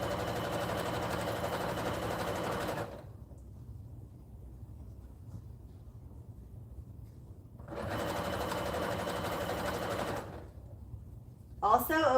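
A sewing machine top stitches a fur bear blanket in two loud, steady bursts of rapid whirring, separated by a quiet pause of low hum, with a brief clatter right at the end.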